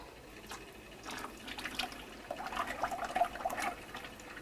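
Liquid peppermint soap poured from a container into two buckets gives a soft trickling, gurgling splash that grows busier midway, fairly quiet and close.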